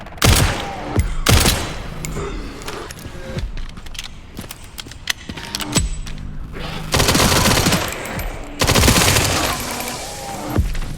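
Rapid automatic gunfire bursts from the Resident Evil Requiem video game, loud and close, with heavy sustained volleys and short gaps between them, ending in two long dense blasts.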